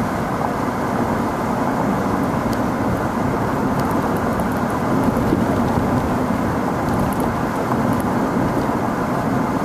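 A car driving steadily along a road, a dense continuous rumble of tyre and engine noise heard from inside, with faint ticking clicks scattered over the top.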